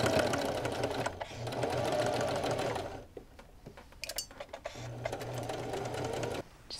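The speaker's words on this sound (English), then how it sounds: "And then sew that right into this waistband right through here." A sewing machine runs in two fast, steady stitching bursts while top-stitching thrifted vintage clothing into a waistband, the motor whirring close and loud with a quieter pause between runs and some handling clicks.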